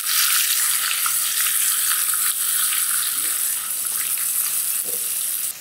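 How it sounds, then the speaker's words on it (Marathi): Vertically sliced onion frying in hot oil over a garlic tempering for a dry capsicum sabzi gives a loud, steady, close sizzle for the whole stretch, with no voices. "लसूण हलकासा तांबूस झाला की यामध्ये उभा चिरलेला कांदा घालूया"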